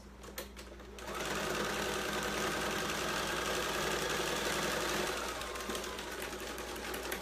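After a brief pause, a sewing machine stitches repurposed t-shirt fabric in a continuous, steady mechanical whir with fine rapid clatter. It runs close and fairly quiet with no talking.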